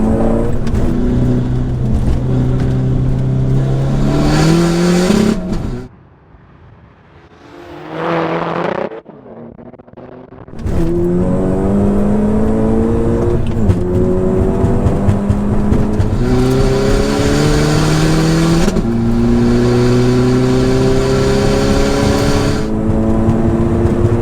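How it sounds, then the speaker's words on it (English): Two 380 hp hatchbacks, a Skoda Fabia vRS diesel and a VW Golf GTI petrol, accelerate hard in a roll race, engines roaring loud and close with repeated rising gear pulls, a brief drop to quieter running midway, then full-throttle revving resumes. "the idea for the roll race is for both cars to roll together at an agreed speed"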